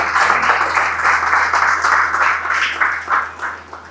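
A church congregation applauds during a service, a dense, loud and steady roar of clapping from many people that continues throughout, with some voices faintly mixed in.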